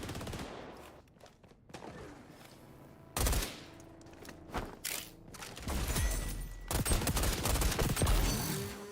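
Grenade explosions and gunfire in the video game XDefiant, with bursts of rapid automatic fire, sharp blasts and loud crashing explosions coming in irregular waves, growing denser and louder toward the end.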